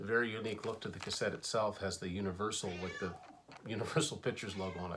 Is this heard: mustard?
no